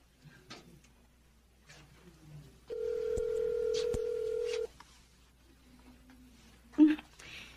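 Telephone call to a friend in a Filipino TV drama, with a single long ringback tone that goes unanswered, set among quiet room sounds and a short burst of talk afterward.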